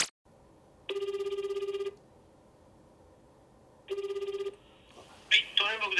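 A telephone rings while a call is placed to a parent, two evenly spaced bursts of rapid electronic ringing, clear and steady, followed by voices talking on the line.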